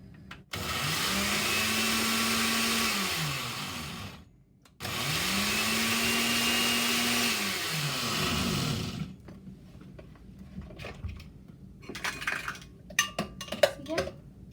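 A steady electric mixer or blender whir runs for several seconds, pauses briefly, then resumes while a kebab spice paste with ginger is mixed in a bowl; scattered clinks of utensils against the bowl follow at the end.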